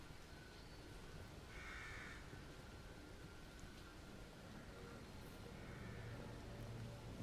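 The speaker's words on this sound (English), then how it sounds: "You can shoot and kill that crow." A crow caws a couple of times in The Evil Within, faint and short, over a dense hiss of ambient noise.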